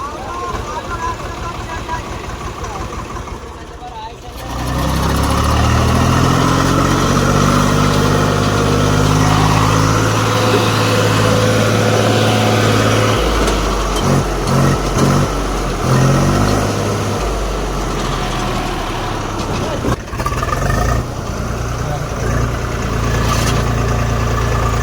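A tractor parked outside on a farm idles with a steady mid-pitched engine rumble that starts after a few seconds and continues throughout, with people talking over it.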